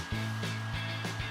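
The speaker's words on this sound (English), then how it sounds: "heat up the candle with a hairdryer" A hair dryer blows hot air onto a candle wrapped in a napkin, its close, steady whirring hum running throughout the brief moment.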